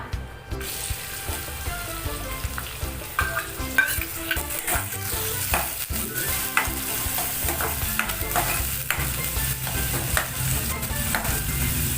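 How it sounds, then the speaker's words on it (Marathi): Steady sizzle of onion frying in hot oil for tempering, with occasional clinks and scrapes of stirring, continuous and close throughout. "आता कांदा घालते फोडणीला"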